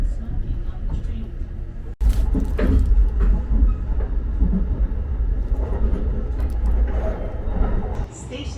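Interior of a Japanese train running from Kyoto to Osaka, a steady low rumble with soft rail clatter throughout, and a brief sharp jolt near the start.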